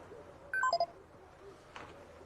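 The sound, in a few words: phone SMS message alert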